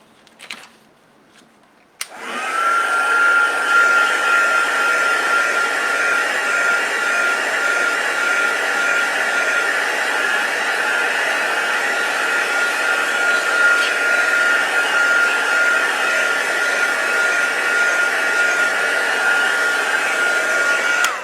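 A hair dryer blows steadily and loudly for about twenty seconds, drying a rice paper craft project; a brief click and soft handling noises come just before it switches on.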